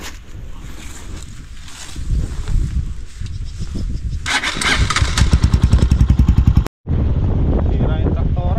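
A farm tractor engine runs loud and close with a rough, throbbing rumble, rising into faster, heavier chugging as it works, with voices under it and a brief cut near the end.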